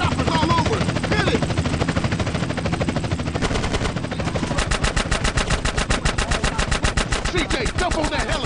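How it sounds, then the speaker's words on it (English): A helicopter's rapid rotor chop pulses throughout, mixed with bursts of gunfire and voices talking over the noise, in the video game GTA San Andreas. "CJ, that chopper's all over."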